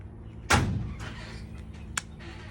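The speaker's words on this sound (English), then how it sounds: "Sorry, that's my screen door." A household screen door bangs shut once, a loud sharp slam followed by a short rattle and a fainter knock a moment later.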